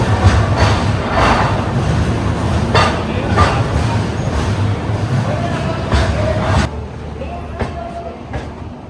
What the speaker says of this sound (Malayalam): അപ്പോൾ നമ്മുടെ വണ്ടി ഇവിടുന്ന് വിട്ടിരിക്കുകയാണ്